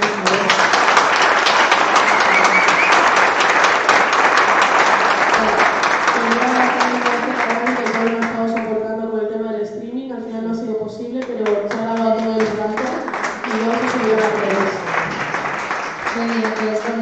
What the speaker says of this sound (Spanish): Así es que un aplauso para ella.